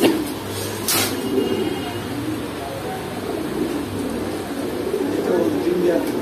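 Pigeons coo softly in a pigeon shop at a market, low repeated coos under a busy room and nearby voices talking.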